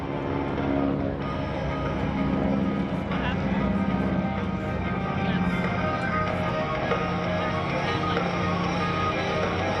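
GEICO Skytypers vintage propeller aircraft fly a dogfight maneuver at the NAS Oceana airshow, their engines giving a steady, sustained droning roar with a gentle rise and fall, heard with an announcer talking over the sound.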